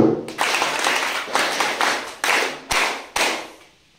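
Slow, spaced hand claps from an audience welcoming a guest at an NSS special camp at Puthimari HSS, about seven distinct loud claps in an uneven rhythm, each followed by a short ringing decay, with no talk over them.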